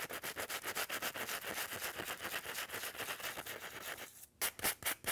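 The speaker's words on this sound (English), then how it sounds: "So, I'm going to sand that a little bit more" A sanding block is rubbed back and forth over a metal piece on a craft card with silver backing, making rhythmic close scratchy strokes in a steady series, briefly pausing before a few more passes.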